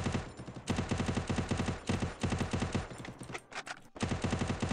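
Rapid bursts of automatic gunfire from a shooting video game fill the whole stretch, loud and dense, with a brief break near the end before the firing resumes.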